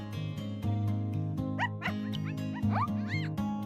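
Ember pup creature in the video game Aniimo giving a few high, rising yips and barks over steady in-game background music.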